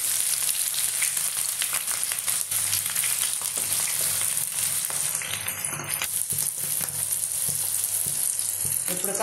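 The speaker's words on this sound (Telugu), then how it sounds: "ఇప్పుడు ఉల్లిపాయ ముక్కలు వేస్తున్నాం, పచ్చిమిరకాయ ముక్కలు" Sliced onion and green chilli pieces frying in hot oil with tempering seeds, a steady close sizzle dotted with small crackles and occasional stirring scrapes, with no talk.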